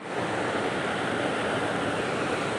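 Cold water flows in a mountain stream near Dharamshala, a dense, steady rush that is loud, close and unbroken throughout, with no voices over it.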